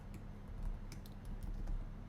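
Keystrokes on a computer keyboard tap out in a quiet, irregular stream at close range over a low background hum, with no voices.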